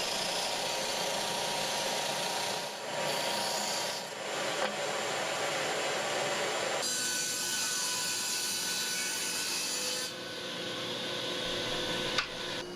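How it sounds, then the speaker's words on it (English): A belt sander shaping the ends of a piece of 3/4 inch oak, a continuous loud abrasive roar whose pitch and grinding texture shift as the wood is pressed on and eased off the belt. "After cutting the piece to length, the ends are formed on the belt sander."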